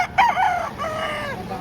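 A rooster crows loudly and close by at a Saturday chicken market in Lipa, Batangas, one drawn-out cock-a-doodle-doo over a low murmur of market background.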